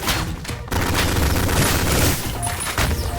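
Enemy gunfire in the retro first-person shooter Ion Fury: dense bursts of rapid game shots and booms, loud and continuous with a brief gap near the start.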